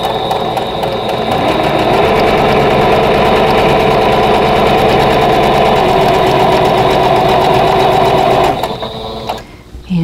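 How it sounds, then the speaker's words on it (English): A sewing machine stitches a seam on a vintage quilt block, running in a loud, continuous mechanical whir with rapid needle rhythm for about eight and a half seconds before stopping abruptly, followed by a brief softer rattle. "I'm going to just sew directly down"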